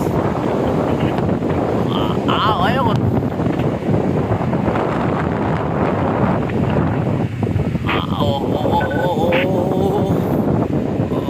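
Strong wind roars and buffets the microphone continuously high on a monopole antenna tower, with brief speech heard over the gusting.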